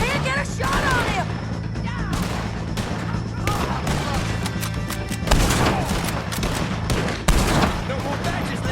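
Rapid gunfire in a shootout against O'Driscoll gang members in Red Dead Redemption 2, a dense fusillade of overlapping rifle and pistol shots with louder booming blasts near 5.3 and 7.3 seconds, voices shouting beneath the continuous barrage.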